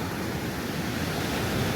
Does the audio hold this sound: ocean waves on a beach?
yes